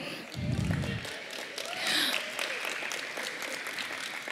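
An audience at a city State of the City evening event claps steadily and cheers, a dense wash of applause that fills the whole stretch, with a brief low thump early on.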